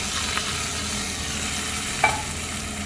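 Tempering spices for tomato kadaiyal fry in hot oil: cumin, urad dal, asafoetida and curry leaves sizzle in a steady, dense crackle. The sizzling stays loud and close throughout, with a single sharper pop partway through.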